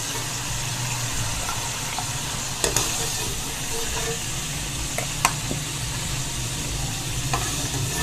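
Chicken pieces frying in a pan for pulao, a continuous moderate sizzle and hiss with a few sharp pops and clicks of stirring.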